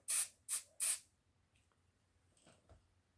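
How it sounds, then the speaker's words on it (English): Three quick, sharp bursts of hairspray aerosol hiss in a row onto model railway trees, followed by quiet handling noises. "I'm going to spray it with some hairspray."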